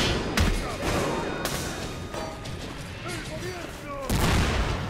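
Gunfire volleys crack out in the Metro Exodus game: several sharp, loud bursts separated by a second or more, mixed with shouting voices and combat clatter.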